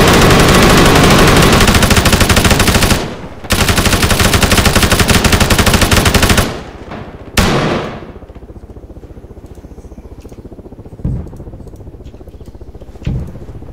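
ArmA 3 gunfire roars in long, dense automatic bursts that briefly pause. It then thins into scattered, loud single shots and short pops.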